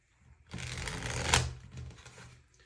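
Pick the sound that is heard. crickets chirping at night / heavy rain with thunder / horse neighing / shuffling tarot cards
shuffling tarot cards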